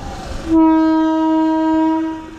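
A local train on the line to Digha sounds a long, loud horn that starts abruptly and holds steady for about a second and a half before cutting off, over low rumbling track noise.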